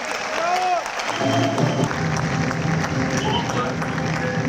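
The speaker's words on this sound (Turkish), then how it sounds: "Alkışlarımızla efendim." Applause at an awards ceremony of the Adana Golden Boll film festival, a continuous, dense clapping from a large hall audience, with a voice and some music partly heard beneath it.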